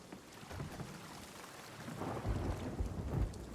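Thunder rumbles over steady rain during a storm at sea in a pirate sailing video game, the low rolling booms swelling louder in the second half while rain hisses continuously underneath, with no talking.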